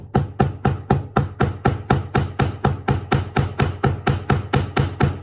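A hammer peens a metal pin rivet with about twenty-two evenly spaced, sharp ringing blows, close and steady, about four strikes per second with no pauses.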